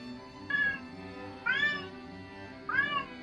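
A pet cat named Zoe meows three times at roughly one-second intervals, each a clear, close, rising-and-falling cry with quiet pauses between.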